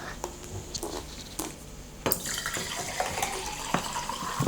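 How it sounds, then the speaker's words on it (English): Fairly fresh sparkling water poured halfway into a glass at home, first quiet clinks and taps, then a splashing pour with fizzing from about midway that continues to the end, close and moderately loud with no speech. "pour it halfway with some fairly new sparkling water"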